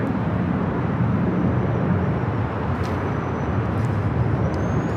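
Hawaiian Airlines Airbus A330 jet at Los Angeles LAX airport, a loud, steady broadband engine roar that holds constant throughout with no pauses.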